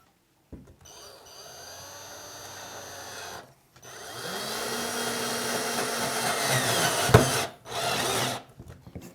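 A MINUMX cordless drill driver drives a screw into wood in two bursts of steady whirring, the second longer and ending in a grinding clunk, close up with no talk.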